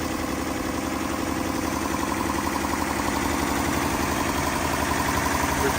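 1971 Mercedes-Benz W108 280S with a carburetted six-cylinder engine idling under the open bonnet, a steady, even hum with a fine regular pulse, heard close and alone.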